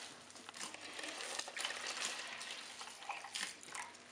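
Water poured into a container while making farm sourdough bread, a soft continuous trickle and splash with a few brief surges, quiet and close, with no talking.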